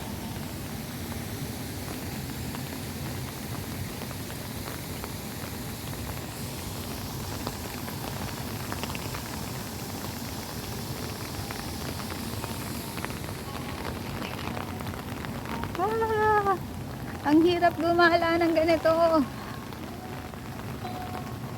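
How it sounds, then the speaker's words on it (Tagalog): Rain pours steadily in Hong Kong near Diamond Hill's Nan Lian Garden and Chi Lin Nunnery, a continuous wash of hiss under a woman's brief spoken remarks, with some tonal chirps toward the end. "Lumalakas ang ulan."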